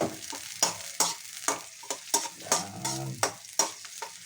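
Ginger frying in oil in a pan, a close sizzle broken by regular sharp scrapes and stirs about twice a second, with one brief spoken word.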